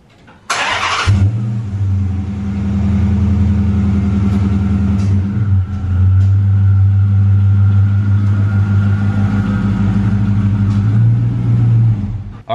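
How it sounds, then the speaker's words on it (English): A Dodge Charger RT with a 5.7-litre V8 cranks and fires up, then settles into a loud, steady, deep idle that runs close and alone for the rest of the stretch. "Start the car."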